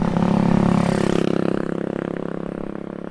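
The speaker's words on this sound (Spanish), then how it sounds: "ahora cuando pase la moto, seguiré hablando" A motorcycle passes on a street in the Parque Hermoso neighbourhood of Mar del Plata, Argentina, its loud, rattling engine close by at first and easing slightly as it moves off.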